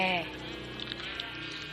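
A Minecraft sheep gives a short bleat at the very start, wavering and clear in the game audio, then fades into a low electrical hum with light clicks. No one speaks during the bleat.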